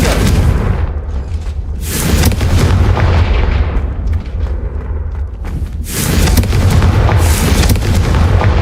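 Loud fiery blasts from the Confringo blasting spell in Hogwarts Legacy, with booming bursts near the start, around two seconds and again near six seconds over a dense rumbling game soundscape, no talking.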